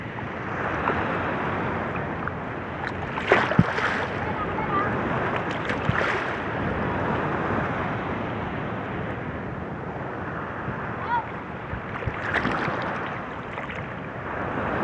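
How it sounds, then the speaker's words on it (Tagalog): Big ocean waves at sea off Batangas heard from a boat, with a continuous roar of churning water and wind buffeting the microphone, and occasional louder splashes of water breaking nearby. "So lalaki ng alon"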